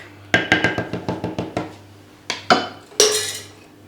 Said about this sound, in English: All the flour lumps must go, so I'm just going to whisk